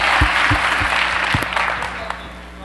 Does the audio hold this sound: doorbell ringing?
no